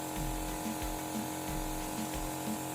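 Airbrush machine spraying colour onto a cake on a rotating turntable, a steady close hiss over a continuous compressor hum, with faint rhythmic knocks as the table turns, no voices.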